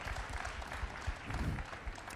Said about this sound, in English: Yeah, definitely worth some claps.